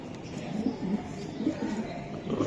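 A caged racing pigeon at a pigeon farm gives several soft, rolling coos in close succession, heard close up over faint background noise.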